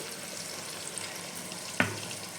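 A paste of raisins, poppy seeds and milk fries in a pan over a low gas flame, giving a faint, steady sizzle with one brief sharp knock partway through.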